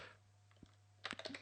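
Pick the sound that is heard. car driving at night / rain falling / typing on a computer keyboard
typing on a computer keyboard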